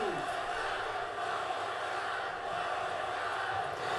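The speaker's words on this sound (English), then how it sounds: "And the crowd's chanting one more time." A crowd chants in the WWE 2K22 wrestling video game, a faint, steady arena roar with a rhythmic swell running underneath for the whole stretch.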